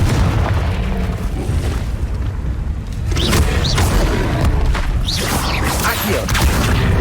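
Loud booming blasts of the Confringo spell in Hogwarts Legacy, a steady heavy rumble broken by several sharp bursts and crackling impacts in the second half, close and continuous, with a voice calling out briefly amid the combat.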